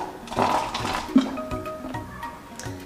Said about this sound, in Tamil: இப்போ நான் இதில் தண்ணி ஊற்ற போகிறேன்